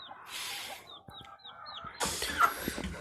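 A brooding hen, hatched in spring 2020, clucks softly in a straw-lined winter nest. High, thin peeps from her chicks come in a short run before a louder burst of rustling and clucking.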